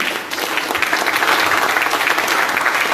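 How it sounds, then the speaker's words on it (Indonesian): Audience at a talk show breaks into sustained, dense applause, a loud steady wash of clapping that fills the space alone without talk over it. "boleh kasih tepuk tangan sekali lagi?"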